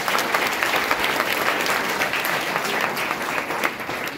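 An audience claps for schoolchildren at a school prize event in Hisar, a dense, steady burst of applause from many hands that stays loud and even from start to finish.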